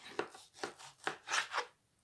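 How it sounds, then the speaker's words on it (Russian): A knife chops through pork fat (salo) on a board, cutting it into small cubes: five distinct close cuts in an uneven rhythm, each with a crisp, slightly scraping attack, with no other sounds. "А это сейчас я разрежу на тоненькие такие кубички, чтобы удобно мне было в блендере."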